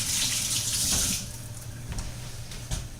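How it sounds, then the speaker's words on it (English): Running water from a kitchen sink tap as fingers are rinsed under the stream, a steady close splashing hiss that softens slightly partway through, with no talking. "Let me wash my fingers here."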